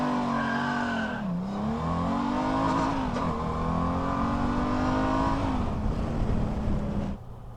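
A Honda Goldwing bagger motorcycle with a manual gearbox launches hard from standstill toward 100, its engine note climbing loud and close through several gear changes marked by brief dips in pitch, then dropping off abruptly at the end.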